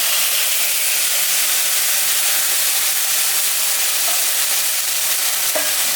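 Steady, close sizzle of a ground paste of ginger, cumin, coriander and dried red chilli frying in oil in a pan for a koi fish curry, a continuous hiss with no pauses and no voices.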